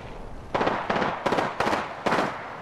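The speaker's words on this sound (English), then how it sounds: "The enemies are shooting at me." Bursts of enemy gunfire in Apex Legends, five loud, sharp volleys of rapid shots spaced roughly half a second apart, crackling close and punchy with brief gaps between them.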